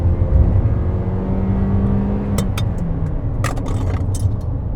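A 2024 Subaru Crosstrek's 2-liter inline-four engine drones steadily with a low rumble and harmonic whine, a brief rising rev near the end, heard from inside the cabin.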